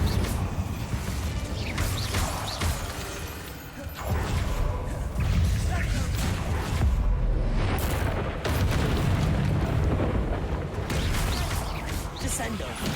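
Incendio fire spells cast in combat in the Hogwarts Legacy video game, with dense booming blasts and crashing impacts that come in several loud bursts over continuous battle noise, and voices call out spells throughout.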